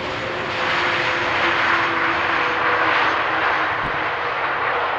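A fixed-wing airplane lands on runway 1 at Amsterdam Schiphol Airport on King's Day, with a loud, steady engine roar that swells slightly and holds throughout, close by and alone without talk.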